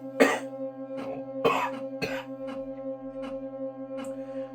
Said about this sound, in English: Apologise if I keep coughing.